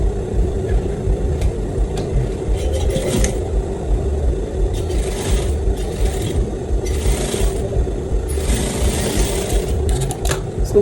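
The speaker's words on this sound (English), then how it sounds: "you take the other one and sew it to the down part like this" A sewing machine stitches a welt pocket with flap, whirring steadily and continuously at close range with a constant mechanical hum and faint intermittent scraping of fabric.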